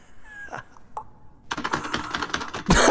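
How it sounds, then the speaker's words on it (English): Quick, clattering computer keyboard keystrokes come in a dense run during a Dying Light 2 game session, close and moderately loud, after a quiet start with a few faint sounds. "I thought he made a keyboard noise."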